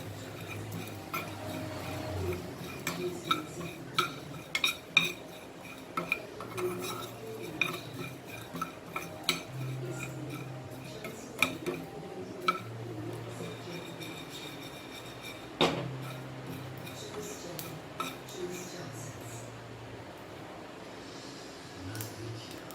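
Cumin and coriander seeds dry-roasting in a pan: faint crackles and repeated light metallic scrapes and taps of a spoon against the pan, scattered over a quiet kitchen with occasional sharper clinks.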